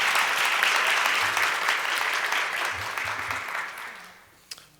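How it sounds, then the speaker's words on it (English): A museum panel discussion audience claps for the panelists in a sustained, dense round of applause that fills the room, then tapers off with a few stray claps at the end. "Can I get another round of applause for our panelists?"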